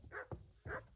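A small dog in the Henry To the Limit video game barks twice, with short yips about half a second apart. The sound is close and fairly quiet, and no one talks over it.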